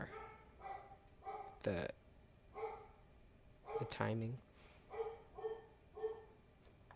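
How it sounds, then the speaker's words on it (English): A pet dog barks indoors in a series of sharp, fairly close yips and barks spread through the stretch, with someone speaking briefly between them. "Sorry, it's my dog."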